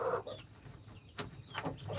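A flock of chickens cluck and chirp in short scattered calls, fairly faint and slightly distant, with a few brighter peeps rising over a steady low outdoor background.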